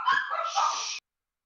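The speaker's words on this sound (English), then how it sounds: "the dogs have decided to bark" Household dogs let out one loud, close, harsh bark-like burst lasting about a second, then the sound cuts abruptly to silence.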